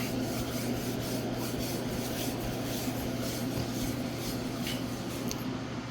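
A hand rubs a grease spot on the fabric convertible top of an E85 BMW Z4, a continuous scratchy rubbing close up over a steady background hum.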